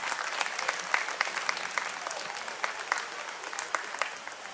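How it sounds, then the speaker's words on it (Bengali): An audience claps loudly and steadily after a children's drama performance, a dense sustained round of applause from a crowd in a hall. "একটা জোরে হাততালি হয়ে যাক সবারই জন্য"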